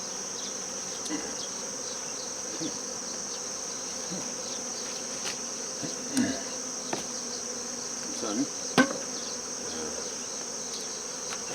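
Honeybees buzz at a hive in a continuous, dense hum with occasional louder passes of individual bees close by. A voice speaks briefly and faintly.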